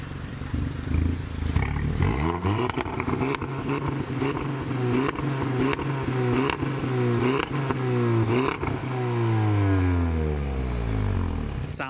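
Tuned Stage 1 Audi S1 in Sepang blue revving and accelerating hard, the engine note sweeping up through several gear changes as it pulls away, loud and close, with voices talking over it.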